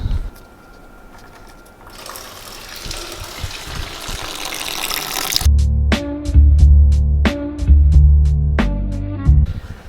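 Liquid gushing and splashing out as a water pipe is removed from an IS300 fitted with a 2JZ-GTE engine, a rushing wash that builds for several seconds before louder rhythmic tonal pulses take over.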